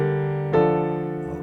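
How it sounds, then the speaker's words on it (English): A minor scale played on a sustained, organ-like keyboard tone, with a new note entering about halfway through and ringing steadily, loud and close with no talking. "The minor scale would sound like this."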